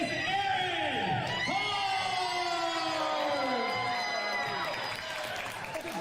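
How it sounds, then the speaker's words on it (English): Loud wrestling crowd at a pro wrestling show in full roar, cheering and whooping over a wailing siren-like entrance sound, with dense sustained noise throughout. "listen to that crowd"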